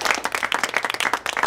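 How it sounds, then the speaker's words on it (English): A group gives themselves a round of applause after a team performance, dense continuous clapping from several people close by, steady and lively throughout. "give yourselves a round of applause"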